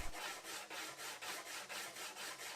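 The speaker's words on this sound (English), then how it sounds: "To blend the neck and the curve, I switched to using sanding contours and 100 grit sandpaper." Walnut being hand-sanded with contour sanding pads and 100 grit sandpaper, a steady raspy scrubbing in even back-and-forth strokes, close and alone with no talk.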